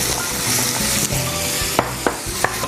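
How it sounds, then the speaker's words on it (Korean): Potato pieces stir-frying in hot oil for braised potato side dish, a steady loud sizzle with a few sharp scraping clicks of a utensil near the end, no voices. "이제 감자를 볶겠습니다."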